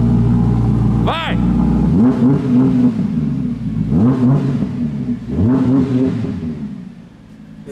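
An Audi car accelerating hard, its engine revving up in repeated surging pulls that rise and fall, loud and close, with a brief sharp sound early and people talking over the engine.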